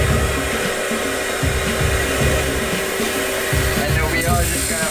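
An ice skate sharpening machine runs with a steady, loud motor whine and a constant hum, its low grinding pulsing in a regular rhythm throughout, with no talk.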